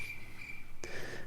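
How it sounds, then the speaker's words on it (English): A steady high-pitched cricket chirp trills continuously, with a brief soft tap partway through, quiet and alone. "You should insert a sound of crickets chirping right here."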